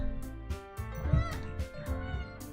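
A cat meows inside the video game Doki Doki Literature Club, with several short mewing calls spread over a few seconds against a steady backdrop of game music.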